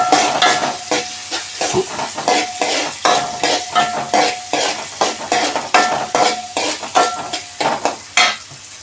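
Soya bean and potato curry frying in a pan in a small home kitchen while a spoon stirs and scrapes in a steady, repeated rhythm over a continuous sizzle, close and fairly loud, with no voices.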